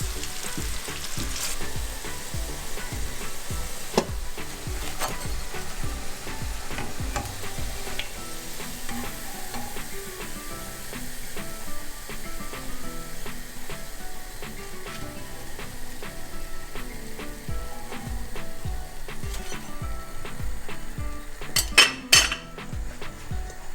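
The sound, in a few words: onion fritters sizzling in frying oil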